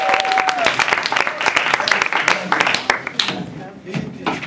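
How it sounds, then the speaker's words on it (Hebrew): Audience applause and clapping at an improvisation theatre show, dense and loud throughout, with voices mixed in and a brief tone at the start. "כפיים, איפה אתם?"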